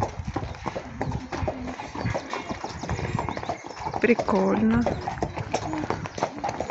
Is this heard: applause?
no